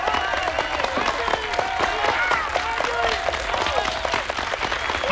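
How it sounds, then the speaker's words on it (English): A crowd gives a big round of applause, with dense, continuous clapping at moderate loudness and a few voices calling out over it for about five seconds. "Let's give her a big round of applause,"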